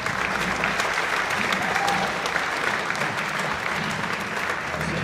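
Warm applause from an audience at an elementary school senior spring concert, dense continuous clapping at moderate volume with a few murmuring voices mixed in.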